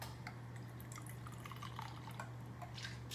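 Malibu coconut rum poured into a glass, a soft, faint trickle with small drips and splashes over a low steady hum.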